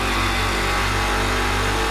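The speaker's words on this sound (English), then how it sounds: "Hear that engine ranking up." An LMP3 race car engine in Project Cars 2 holds a loud, steady high drone as it revs up under acceleration, dense and continuous with no voices over it.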